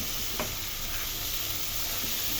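Green beans sizzling in a pan with garlic and onion: a steady, dense frying hiss, close and continuous, with faint stirring scrapes and no voices.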